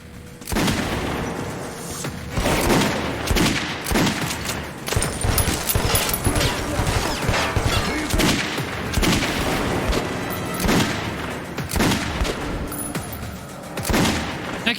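Dense, rapid gunfire bursts with booming shots, loud and continuous throughout, from a firefight in the shooting game Metro 2033.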